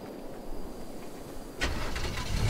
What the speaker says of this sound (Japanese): エンジン音が聞こえたけど